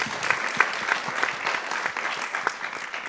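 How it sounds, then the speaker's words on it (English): An audience at a library event claps steadily for a few seconds, moderately loud, with individual claps popping out of the dense applause. "So give Maggie a round of applause too."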